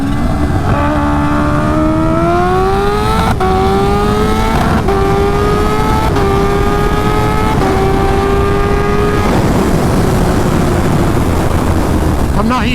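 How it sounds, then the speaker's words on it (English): A stretched Kawasaki Ninja H2 motorcycle accelerates hard through second gear, its loud engine whine climbing in pitch in several rising sweeps broken by quick shifts, then dropping off after about nine seconds. "Alright guys, we'll do a second gear test."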